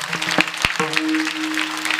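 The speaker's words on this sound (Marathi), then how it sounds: "गावकरी मंडळींनी पुतळा बनवणाऱ्या सगळ्या मंडळींसाठी टाळ्या वाजवा सगळ्यांनी जोरदार" Crowd at a village kirtan clapping together, a dense patter of many hands with a few sharp individual claps and a sustained tonal hum running underneath.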